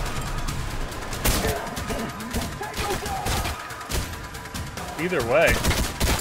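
Sniper rifle gunfire in the shooter game Trepang2, mixed into dense game combat with bursts of shots and other gunfire, while someone talks over the action.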